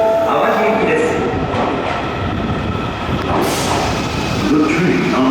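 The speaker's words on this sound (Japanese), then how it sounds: "2番線に到着の電車は日本橋、堺筋本町、天神橋筋6丁目方面、淡路行きです。" An Osaka Metro Sakaisuji Line train pulls into Ebisucho Station: a loud, sustained underground rumble of motor and wheels with rattling clatter and brief squeals as it slows, while a station announcement plays over it.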